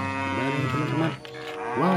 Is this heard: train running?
no